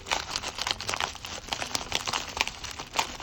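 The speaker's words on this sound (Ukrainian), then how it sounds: "Давайте сьогодні відкриємо ось цей пакетик з куромі." Crinkly paper and plastic rustling up close as a small Kuromi paper surprise packet is torn and pulled open, with irregular crackles throughout.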